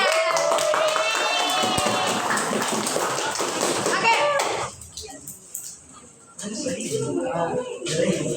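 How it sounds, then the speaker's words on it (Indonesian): A school class claps and cheers during a teaching session, loud and dense at first, then fading to scattered taps while voices talk over it. "tepuk tangan dulu sekali lagi untuk semuanya"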